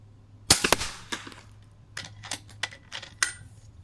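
An AGT Uragan 3 air rifle fires slugs at targets on a range: a sharp, close crack, followed by a series of lighter clicks and taps from the action across a few seconds, with no talking.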